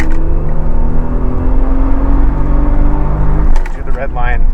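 A 1990 Toyota Supra Turbo engine pulls hard at full throttle in second gear, a loud, steady rising drone that climbs in pitch throughout, ending with a brief shift in tone near the end.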